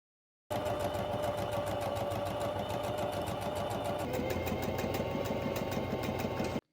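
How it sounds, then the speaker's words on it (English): A sewing machine runs in one continuous, close burst, its needle thumping in a rapid steady rhythm while it stitches a French seam down satin fabric. "press, and then sew it straight down, encasing the raw edge in the seam"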